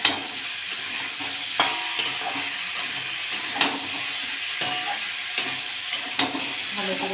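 Tilapia curry with tomato is sautéed and stirred in a pan, a continuous close sizzle and hiss with periodic clinks of the spoon against the pan.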